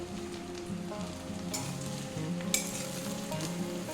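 Pointed gourd and eggplant fry over medium heat with browned onions in a pan, a steady, fairly quiet sizzle with occasional stirring clinks and scrapes, no talking.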